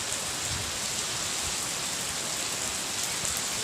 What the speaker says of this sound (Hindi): हमारा वाइपर भी डूब गया बारिश में।